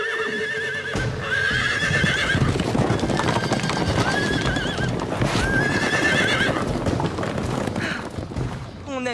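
A cartoon wild horse neighs loudly several times over galloping hoofbeats, the whinnies rising and falling close up against a busy animated soundtrack.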